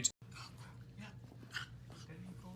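A dog pants rapidly and breathes heavily close by, with faint whimpering, while people talk over it throughout.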